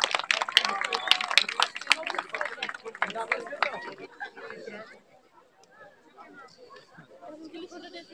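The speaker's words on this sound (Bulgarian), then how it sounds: "още веднъж вашите аплодисменти за тези деца, които се състезаваха в този светъл ден" An audience claps for children at an athletics relay award ceremony in Sliven, a dense burst of applause mixed with crowd chatter that fades after a few seconds into quieter murmuring and background voices.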